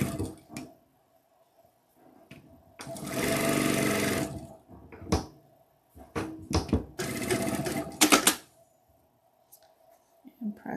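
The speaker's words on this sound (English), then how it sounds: "And then sew the other side on." A sewing machine stitches a seam during a live sewing session, in several distinct runs of whirring stitching separated by pauses, with light handling noises between them.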